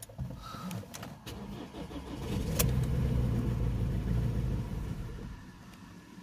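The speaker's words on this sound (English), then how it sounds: "It starts, but it cuts out." A Ford Transit Custom 2.0 diesel with intake airflow and turbo underboost faults cranks briefly, fires and runs with a rising rumble for a few seconds, then fades as the engine cuts out.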